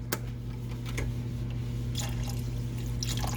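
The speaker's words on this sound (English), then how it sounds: "So now I'm going to go in with that beef broth." Beef broth poured into a simmering pan of oyster chicken makes a soft, steady liquid trickle with a faint drip or two over a constant low kitchen hum.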